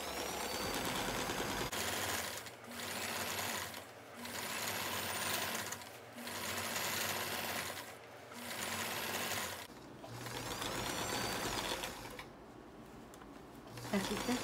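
A sewing machine stitches a zigzag seam on fabric for a toaster cover, running in several steady motor bursts separated by brief pauses, with someone talking throughout.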